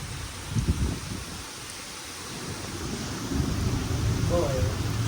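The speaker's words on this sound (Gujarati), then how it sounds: "વરસાદ સારો આવી ગયો" Steady rain hisses outdoors, with low rumbling thunder swelling underneath and growing slightly louder toward the end.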